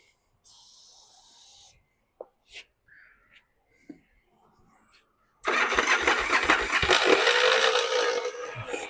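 A 1984 Yamaha Virago motorcycle engine cranks loudly and steadily on its starter for the last few seconds, after quiet scattered clicks and brief noises at the start.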